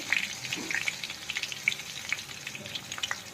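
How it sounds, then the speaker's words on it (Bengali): Nigella seeds and green chillies fry in hot oil in a pan, a fine continuous sizzle dotted with sharp little pops and crackles, close and moderately loud. "কালো জিরে দিয়ে দিলাম। ব্যাস, এটা ভাজা ভাজা হতে হতে কলমি শাকটা দিয়ে দেবো, একটু ভাজা হয়ে নিই।"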